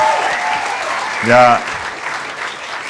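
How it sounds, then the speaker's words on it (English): Comedy club audience clapping for the comedians of the night, a steady crowd applause running under a voice, with a brief vocal shout from the stage partway through and the clapping carrying on afterward. "a round of applause for all the other comedians you've seen tonight"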